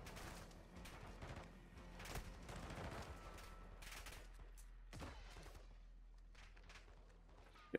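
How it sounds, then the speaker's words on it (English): Heavy, sustained automatic gunfire in Call of Duty Modern Warfare 2 DMZ during a fight with The Chemist, rapid overlapping shots at moderate distance, fairly faint overall with a sharp louder burst at the very end. "Taking a constant and heavy fire."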